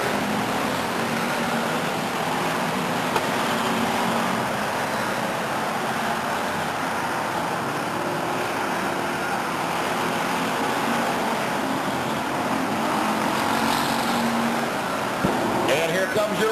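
Race cars circling the Stockton 99 oval during a 1999 race, a continuous roaring engine drone that stays loud and even throughout, with an announcer talking over it.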